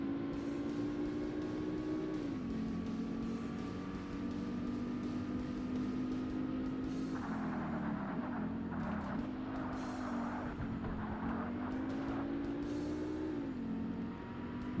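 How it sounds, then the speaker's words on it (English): A race car engine in the racing video game Forza Motorsport drones on steadily and sounds muffled, its pitch rising and falling as it shifts through gears and changes speed, with brief higher whines from the middle onward. "The car sounds very muffled."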